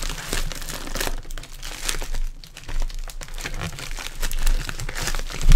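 Cardboard shipping box holding a Koro Sensei figure being cut and torn open up close, with steady crinkling, crunching and tearing noises running throughout and growing louder at the end.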